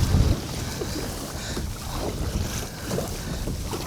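Strong wind buffets a fishing kayak being pedaled on open water, gusty rumbling roar with low microphone buffeting, loud and continuous, a heavier gust at the start.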